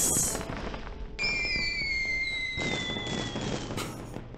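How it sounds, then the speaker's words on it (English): Fireworks go off in the hidden-object game Halloween Chronicles 2: Evil Behind a Mask, a burst followed by a long descending whistle and crackling pops, fairly loud with no voices. "Fireworks!"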